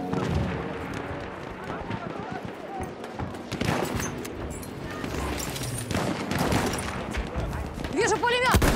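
Machine gun fire and other gunfire in the video game Battlefield 1, dense and continuous, with explosions and battlefield noise mixed in under in-game voice callouts.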